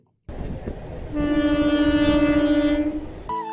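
A loud, close train horn blares one long sustained tone for about two seconds over the rumble of a moving train near Panskura Junction, West Bengal, then cuts off abruptly.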